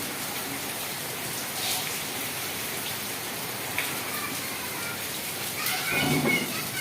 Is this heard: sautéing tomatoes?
no